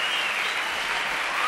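Studio audience on a French television show applauding a guest, a steady dense wash of clapping filling the whole moment with no talk over it.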